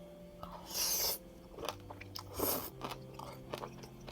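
Close, crunchy chewing and biting while eating Korean food such as kimchi bibimbap, kongguksu, braised monkfish and stir-fried octopus, in several bursts with short pauses between mouthfuls.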